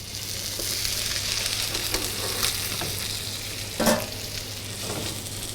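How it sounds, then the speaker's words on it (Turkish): Anchovies sizzle steadily in an oiled pan, a continuous close frying hiss with occasional sharper crackles and a brief louder pop near the end, no talking. "Yağladıktan sonra hamsimi tekrar tavama bu şekilde kaydırıyorum."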